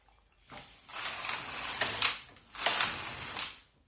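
Knitting machine carriage sweeping across the needles while knitting a baby diaper cover, two loud rasping mechanical passes each lasting about a second and a half, close and with no talk.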